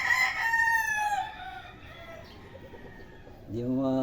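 A backyard rooster crows loudly and close, a long drawn-out call that trails off, then another bird starts up near the end amid farmyard background noise.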